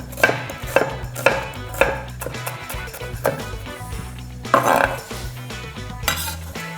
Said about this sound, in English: by the time we finish cutting our onion